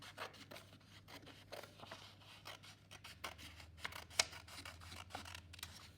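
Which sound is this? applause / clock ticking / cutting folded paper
cutting folded paper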